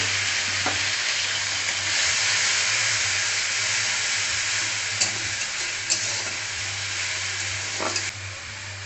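Onion, chili and garlic paste frying in a pan for a brinjal masala dish, a loud, even sizzle filling the whole clip with a few soft utensil scrapes near the end and a low steady hum beneath.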